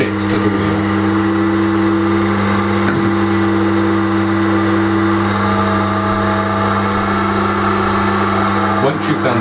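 An electric pottery wheel spins while clay is centred on it, giving a loud, steady motor drone with a constant hum that runs unbroken from start to finish.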